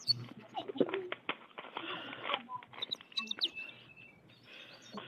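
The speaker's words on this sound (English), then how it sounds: "Is that the American goldfinch?" Thin, high American goldfinch chirps and a trilling song from a recording, mixed with a low steady hum and some talking in the background.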